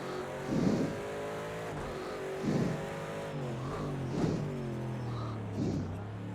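A race car engine in a driving video game revs in repeated surges about every second and a half, each rise falling back as gears shift through corners, loud and steady with no talking.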